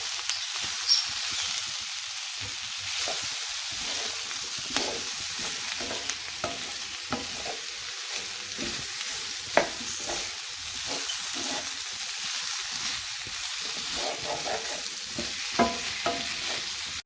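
Chicken pieces fry in a pan for chilli chicken, a continuous bright sizzle with scattered stirring clatters and one sharp knock midway, close and steady for the whole stretch, no speech.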